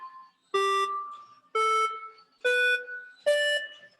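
Four bright electronic tones from a buzzer wired to a micro:bit board play a simple melody, each note beeping at a different pitch in an even rhythm with short gaps between, close and clear with no voices.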